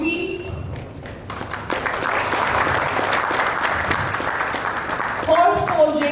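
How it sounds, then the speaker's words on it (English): A conference audience at an entrepreneurship conclave in Delhi claps as guests are called to the stage, a dense burst of applause that runs nearly the whole time, with brief voices at the start and end. "Can you please clap, ladies and gentlemen?"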